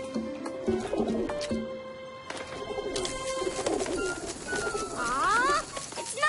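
Pigeons coo in soft, repeated throaty bursts close by, several calls overlapping, followed by a fluttering rustle near the end.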